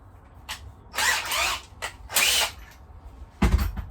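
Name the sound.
power drill drilling a pilot hole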